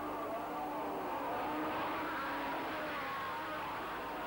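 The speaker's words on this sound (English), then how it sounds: "As the field slithered off the grid down towards Copse Corner, it was Pascal Fabre in the lead" Formula 3000 race cars leaving the grid at Silverstone in 1986, heading toward Copse Corner; a steady, distant roar of engines with no talk.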